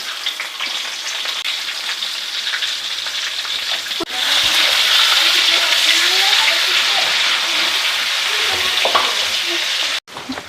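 Masala chicken stirred and frying in a pan, a steady loud sizzle with scraping stir strokes throughout, briefly interrupted near the end.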